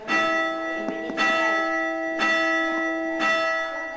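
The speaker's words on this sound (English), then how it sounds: "the bells at St Hilda's signal it's time to meet" Church bells at St Hilda's in East Hull ringing out loud and close, four distinct strikes spaced about a second apart, each leaving a long ringing hum that carries under the next.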